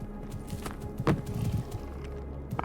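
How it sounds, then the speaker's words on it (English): Footsteps in the video game Stalker GAMMA, a few uneven scuffing steps with a louder thud midway, moderately close over a low ambient drone, no talking. "I hear footsteps."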